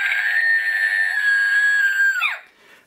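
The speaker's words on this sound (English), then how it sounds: "And when you push this little face, it screams." Novelty pickle toy letting out a loud, sustained high-pitched electronic scream when its face is pushed, holding steady for about two seconds before dropping off abruptly, with no talking.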